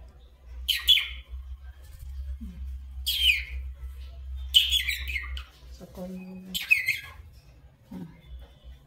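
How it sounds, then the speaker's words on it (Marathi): Several short, bright chirps from a small hand-tame pet bird nearby, spaced out over a quiet background hum, with a few softer calls between them. "हँड टॅम बर्ड आहे तो."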